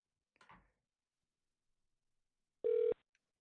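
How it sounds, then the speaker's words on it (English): A single electronic phone ring tone, steady and fairly loud, after a brief soft rustle, during a business call-forwarding demonstration; otherwise quiet. "It's ringing."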